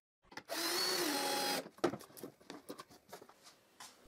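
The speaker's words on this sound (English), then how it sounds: "I insert the screws." A drill drives screws into a wooden 45-degree crosscut jig, a brief whirring buzz of about a second followed by faint scattered clicks and handling taps.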